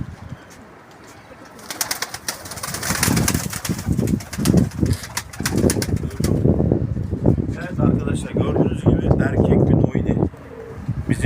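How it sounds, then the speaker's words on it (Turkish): Pigeons cooing and flapping their wings close by, with bursts of wing beats and soft coos while people talk over them throughout. "Kuşları da, kuşları da alalım Mert abi."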